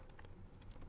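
Quiet typing on a computer keyboard, a quick patter of soft, close key clicks in an irregular rhythm with no speech.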